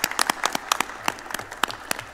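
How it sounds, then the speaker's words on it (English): Modest round of applause at a city council committee meeting, individual claps distinct and uneven from a small group of people, close and clear. "let's give a big round of applause to RJ and his classmates for their efforts"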